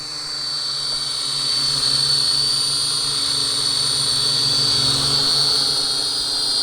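A Helicute Hero toy quadcopter drone hovers close by, its propellers giving a steady, loud high-pitched whir with a faint wavering drone underneath, unbroken and with no talking.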